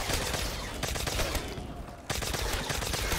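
Rapid bursts of MP40 submachine gun fire in the zombies game Nacht der Untoten, dense and loud, with a brief lull in the middle before the shooting resumes.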